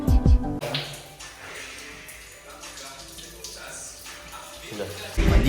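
Water is poured and splashes while rinsing a deceased man's body during Islamic ritual washing, a soft continuous trickle with louder splashes at the start and end.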